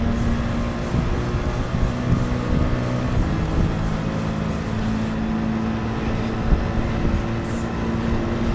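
AMG GR.3 race car at Spa in Gran Turismo 7, held at full throttle with no braking, giving a steady, loud engine drone with a constant low tone and little variation throughout.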